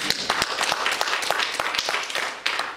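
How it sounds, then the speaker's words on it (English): Church congregation clapping hands in praise during a Sunday sermon, a steady stream of overlapping claps with some louder individual ones near the front, fairly close and uninterrupted. "give God a hand clap of praise"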